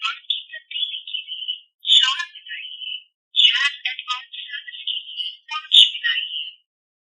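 A Nokia X1 phone plays its outgoing call tone over the loudspeaker, a bright warbling electronic melody in several phrases with short gaps, loud and close with nothing else audible.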